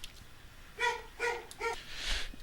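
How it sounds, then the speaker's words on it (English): A dog barks three times in quick, separate bursts, followed by a softer fourth sound, fairly close and clear against a quiet room with no talking. "that's my dog barking"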